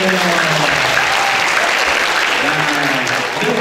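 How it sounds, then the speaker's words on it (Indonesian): Teenage seminar audience in a school hall bursts into loud, close applause, a thick continuous clapping with some crowd voices mixed in, holding steady for a few seconds. "Oke, tepuk tangan semuanya."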